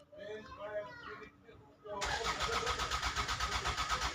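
A car with a blown 20A EFI fuse cranks during a no-start, the starter whirring in a loud, rapid pulsing churn that follows a stretch of close talking and runs on to the end.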